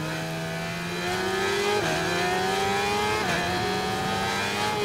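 A 600cc stock racing motorcycle in RIDE 4 accelerating hard onto a wet back straight, the engine whine climbing steadily through two quick gear changes, loud and close with no other sounds.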